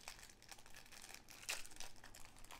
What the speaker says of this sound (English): Gonna have some crinkling again.